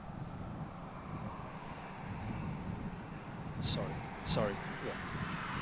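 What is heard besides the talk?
Chinook helicopter flying at RAF Fairford airshow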